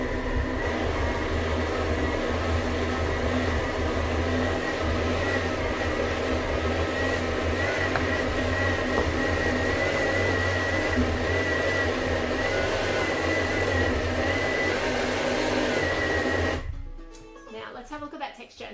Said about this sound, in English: I will spin the speeder, and I'm trying to smooth it further